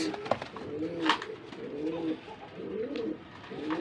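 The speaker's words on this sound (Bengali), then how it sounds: "এখানে একজোড়া দেখেন বাগদাদি কবুতর আছে রেসার সাদা রেসার সাদা বাগদাদি কবুতর" White Baghdadi racer pigeons coo nearby in a steady rhythm, one rolling, throaty coo about every second, with a few sharp clicks between the calls.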